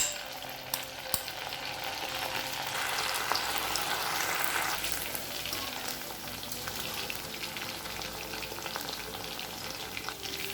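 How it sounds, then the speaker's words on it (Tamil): Chicken pieces fry in hot oil at a roadside-style stall, giving a steady, fairly quiet sizzle with crackling pops throughout and no voices. "நம்ம சிக்கனை போட்டு பொரிக்க ஆரம்பிச்சிடலாம்."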